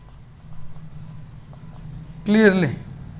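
Marker or chalk writing on a board during a math lecture on eigenvalues makes faint scratchy strokes, followed by a short burst of a voice near the end.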